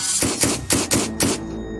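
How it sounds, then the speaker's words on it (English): A rapid burst of gunfire, five sharp loud cracks in quick succession, each with a short echoing tail, then a fading reverberation. "a burst of gunfire rings out behind them"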